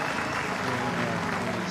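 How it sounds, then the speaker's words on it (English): A home crowd at a Belle Vue Aces v Sheffield Tigers speedway meeting applauds a race win with steady, dense clapping and cheering, with a commentator talking over it throughout. "The home crowd delighted with that."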